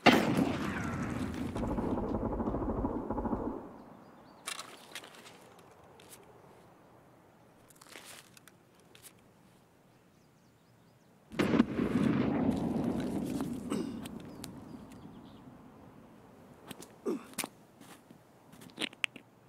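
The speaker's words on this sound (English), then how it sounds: "Using a suppressed shotgun." A suppressed shotgun fires in a video game, giving muffled, sharp blasts spaced irregularly between quieter gaps, alongside two longer noisy stretches of action.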